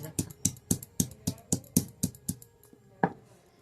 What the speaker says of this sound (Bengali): এবার আমি একটু রসুন বেটে নিব, সবটুকু বাটবো না, একটু বেটে নিচ্ছি। আর এর সঙ্গে আদাটাও বেটে দিব।